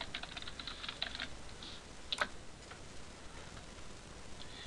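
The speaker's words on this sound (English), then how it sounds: "go ahead and click in the address bar and type in" Quick, faint clicks of a computer keyboard as a web address is typed into a browser address bar, in short bursts with a brief pause and one sharper keystroke midway.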